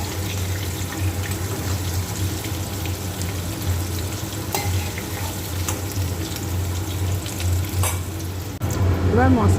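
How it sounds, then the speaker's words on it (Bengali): Potatoes fry in oil in a pan for a fish and potato curry, a loud, continuous close sizzle with occasional clinks and stirring, unbroken by talk. "আমি আলুগুলোকে ভালো করে ভালো করে ভেজে নিচ্ছি"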